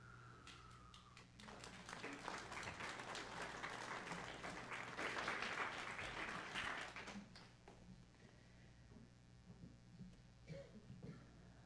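An audience claps after a live piece of music in what seems a gathering or service, dense applause swelling from about two seconds, peaking mid-clip, then thinning into scattered claps by the end.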